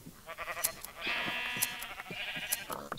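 Sheep in Minecraft bleat repeatedly while being sheared, a series of wavering, nasal cries filling the whole stretch, with the snip of shears mixed in.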